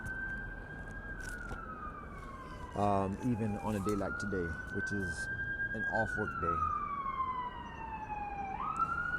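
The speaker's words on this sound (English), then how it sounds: "I'm gonna let the siren pass before I continue on." A wailing siren sweeps up and down steadily throughout, fairly loud and close, while a person talks over it partway through.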